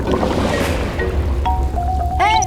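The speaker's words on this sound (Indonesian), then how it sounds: "Rex, angin benar-benar kuat banget sekarang." Strong wind gusts and ocean surf from an Indonesian children's dinosaur adventure cartoon: a continuous loud roar of wind and waves, with whistling tones and brief creaking sweeps near the end.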